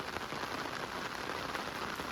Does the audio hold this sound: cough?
no